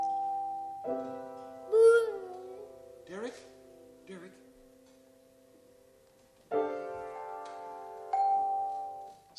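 A child strikes a bell in alternation with piano chords, sustained harmonic chords ringing between short bright bell strokes, heard clearly in a quiet room.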